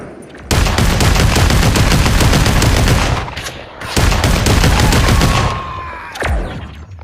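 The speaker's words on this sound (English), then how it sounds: "I hope that you have a gun that fires better than that one did." Automatic gunfire in the VR shooter Population: One, two long, loud, rapid bursts separated by a short pause, followed by a sharp single crack, with no talking.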